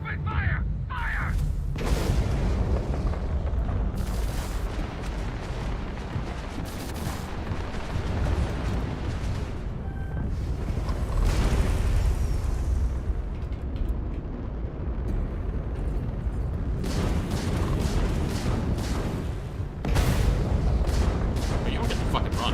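Ship weapons and explosions booming in a Starfield space battle, dense rumbling blasts and impacts rolling continuously with voices shouting over the fight.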